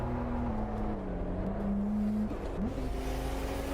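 In the Assetto Corsa driving game, a Volvo car engine is held at full throttle, giving a steady, droning tone that shifts pitch a couple of times as gears change, moderately loud and alone.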